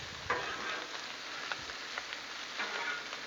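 Italian sausage and bell peppers sear on a flat Blackstone griddle, a close, steady crackling sizzle with a few scraping stirs and taps of a spatula, no voices over it.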